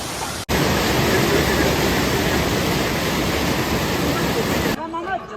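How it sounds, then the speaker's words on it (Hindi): A powerful waterfall rushing below a mountain path on the Amarnath pilgrimage trek between Chandanwadi and Sheshnag, a loud, steady roar that fills the clip before a voice briefly emerges at the end. "ये नीचे से ज़ोरदार झरना बह रहा है और हम इस झरने पर से निकल रहे हैं।"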